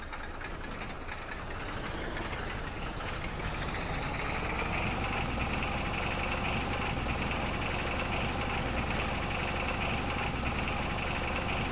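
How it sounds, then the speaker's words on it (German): A tractor engine in the farming game Farming Simulator 22, driven at up to about 19 km/h, holds a continuous rumbling drone with a knocking edge that swells slightly in the first seconds and then runs steady and loud. "dann hört ihr den Sound auch nochmal vom Motor."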